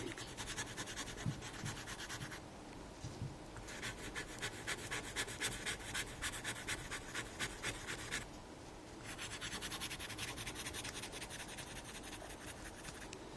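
Pen nib crisscrossing over paper while sketching in black ink, a close, continuous dry scratching in quick back-and-forth strokes with brief pauses, soft and steady with no talking.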